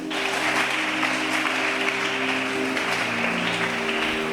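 A church congregation applauding, a steady, dense wash of clapping sustained throughout, with organ or keyboard chords held underneath.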